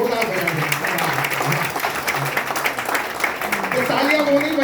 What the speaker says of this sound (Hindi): हाँ जी, तालियां बजाओ साहब, एक बार जोरदार बजाओ